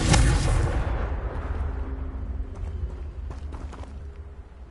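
A Confringo fire spell in the video game Hogwarts Legacy goes off with a loud, deep blast at the start and rumbles away over several seconds. A few faint clicks and tones follow.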